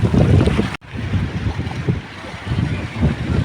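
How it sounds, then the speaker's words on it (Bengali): Waves and strong wind on open water after Cyclone Remal, a steady rough roar with gusts buffeting the microphone and a brief dropout early on, with no voices. "এখন হলো বাতাস ফিরে গেছে, এরপরও দেখেন কি ঢেউ"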